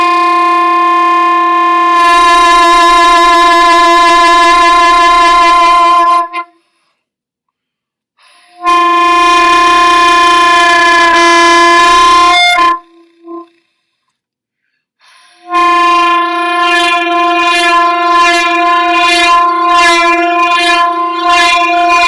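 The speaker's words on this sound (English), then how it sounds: "So I'm going to play the multiphonic again, and I want to see if you can tell when I'm dressing it up" Soprano saxophone sustaining a multiphonic, loud, bright layered tones in three long held blasts separated by silences, the later ones wavering with vibrato and embellishment.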